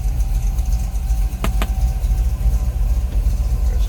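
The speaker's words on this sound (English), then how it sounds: "Here it runs, great sounding car." Close, steady idle of a 1960 Chevrolet El Camino's 350 V8, a deep rhythmic burble with two sharp clicks partway through and a faint whine riding on top; no voices.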